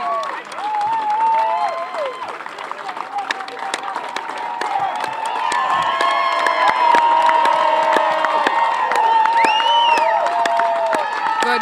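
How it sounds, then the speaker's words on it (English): A large crowd cheers, whoops and applauds at the close of a sports match between Turks and Caicos and Jamaica, loud and sustained with children shouting, swelling louder in the second half. "Big cheers from the crowd for what was an excellent match overall"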